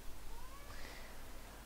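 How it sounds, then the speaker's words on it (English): A pet cat lets out a drawn-out, rising meow over a steady hiss of background noise, moderately loud and alone. "My cat is doing my head in so bad by being loud."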